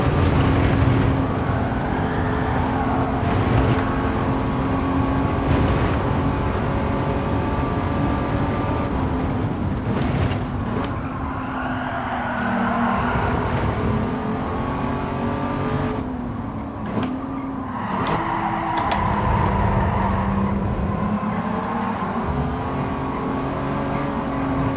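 A race car engine in Gran Turismo 7 holds a steady high drone, dipping and surging as the throttle is worked on a mountain course, loud and continuous with no talking.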